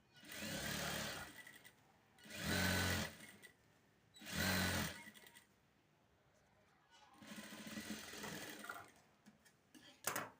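Sewing machine stitching a waistband onto a skirt, running in four loud buzzing bursts with a steady mechanical whir, separated by brief pauses, close and without talk.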